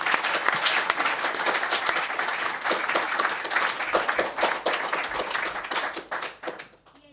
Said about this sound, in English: can we have a round of applause, please, for the British Interplanetary Society.